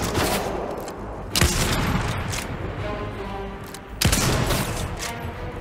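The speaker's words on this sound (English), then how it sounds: "How dare you shoot at me, young sir." Gunfire in a Fortnite Chapter 3 final one-on-one match: a continuous busy spread of game noise with two sharp, loud shot bursts about two and a half seconds apart, no talking over it.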